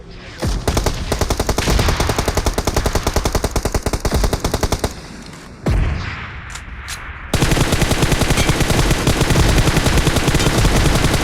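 Sustained automatic gunfire in the battle royale game PUBG Mobile, loud rapid bursts of shots in long strings with a short pause before another heavy volley.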